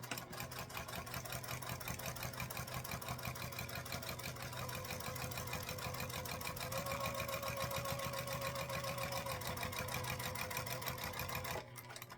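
A sewing machine runs a 1/4 inch seam through fabric panels, its needle chattering in a fast, even rhythm for about eleven seconds before stopping, quiet and close.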